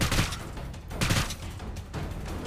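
Small explosive rockets fire in the VR game Seeking Dawn, with several sharp bursts and blasts landing in quick uneven succession, loud and close.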